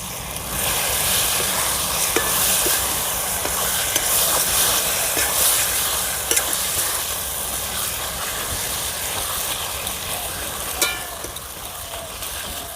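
Banana flower and shrimp ghonto stirred in a hot pan, a continuous steamy sizzle and hiss with scattered light scraping strokes, fairly loud and steady, no talking.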